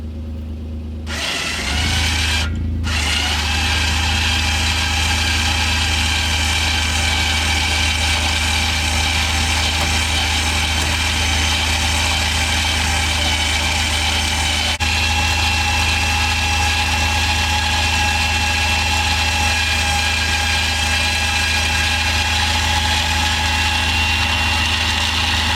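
Warn 4000 winch on a 2020 Kawasaki Mule FXT Pro Ranch utility vehicle winding in its cable, a loud, steady motor whine with a low engine drone under it, running without a break.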